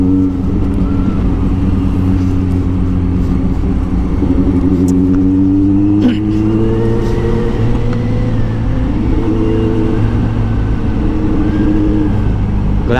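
A Kawasaki Z900 motorcycle engine revs loudly and close by, with a steady throbbing idle broken by repeated rising and falling throttle sweeps, and no talk over it.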